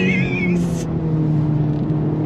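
A 2024 Acura Integra Type S, a front-wheel-drive hot hatch, accelerates hard, its engine note a loud steady drone heard from inside the car, with a brief squeal of tires early on.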